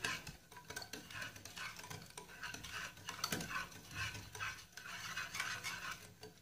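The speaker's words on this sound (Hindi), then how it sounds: "तो फिर से इसको करते हैं अच्छी तरह मिक्स।" Cake batter made with yogurt is mixed in a bowl, soft rhythmic scraping and slapping strokes repeating quietly and close for several seconds without talk.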